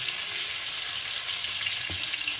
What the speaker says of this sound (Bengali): দিয়ে ভালো করে আলুটাকে এখন লাল করে ভেজে নেব।